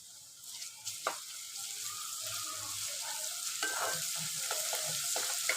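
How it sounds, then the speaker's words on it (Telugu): Turmeric and ginger paste fry quietly in a pan for an eggplant dish, a soft, even sizzle with a few light stirring scrapes and taps, close and unaccompanied by speech. "ఇప్పుడు ఇట్లా మంచిగా ఇట్లా ఫ్రై అయినాయి కదా, అల్లం పేస్ట్, పసుపు"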